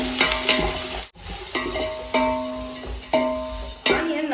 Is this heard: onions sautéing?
yes